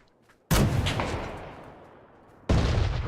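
Two heavy gunshots in the PUBG video game, each a sharp loud blast followed by a long rolling echo, the second cutting in as the first tail fades, with no talk.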